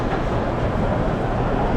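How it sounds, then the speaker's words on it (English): A train rumbles at Rio de Janeiro's central station downtown, a dense, loud, continuous low roar filling the short stretch without pause. "This is the train station"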